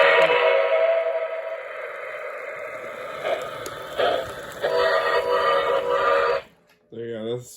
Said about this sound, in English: It sometimes just likes to blow the whistle on random.